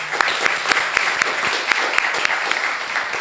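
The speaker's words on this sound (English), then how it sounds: "Let's give one more round of applause to our presenters." Audience applause for presenters at an entrepreneur event, a steady dense clapping from a crowd that runs throughout without pause.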